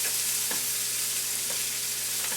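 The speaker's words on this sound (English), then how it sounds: "now I have the onions over here in the skillet" Onions fry in a skillet with a tablespoon of leftover grease from cube steak, making a steady, close hiss with faint low hum and a couple of light taps, no voices over it.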